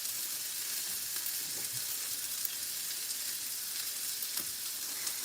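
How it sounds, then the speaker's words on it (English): Butter melting in a hot skillet while home cooking, a steady close sizzle and crackle that runs evenly throughout with a few small pops and no talking. "butter melting"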